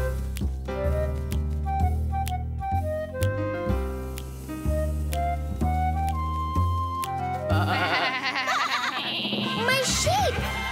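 Cartoon sheep bleat near the end, a cluster of wavering calls over bright, tuneful children's-show music that plays steadily throughout.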